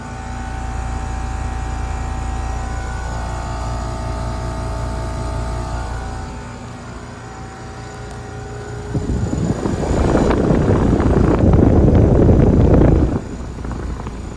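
A brand-new 2024 Rheem Classic RA14 air conditioner with an LG scroll compressor running, a loud, steady low hum and fan drone, joined late by a stronger broadband rushing roar that then eases off.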